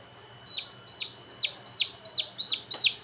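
A newly hatched chick peeps in a regular series of seven or eight high, sharp, downward-sliding cheeps, close and clear over a quiet background.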